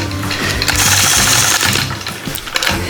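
Sewing machine free-motion quilting a large quilt border guided by a small acrylic ruler, a steady close whirring hum that runs without a break for the whole stretch.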